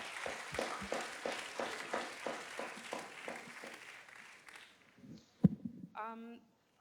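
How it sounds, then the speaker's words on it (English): A small group at an innovation program event gives sparse, rhythmic applause that starts moderately loud and steadily fades out, followed by a brief thump and a short burst of voice. "So let's give a round of applause for Medtronic, who's not here."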